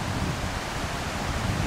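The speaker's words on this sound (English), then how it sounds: "you'll see the river or the creek or" A creek or river flowing beyond a picnic table gives a steady, broadband white-noise rush, close and continuous with no breaks for the whole stretch.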